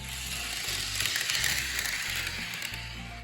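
An HO-scale four-bay hopper car rolls along a model train track with a continuous rattling, clicking hum, quiet and close, no voices.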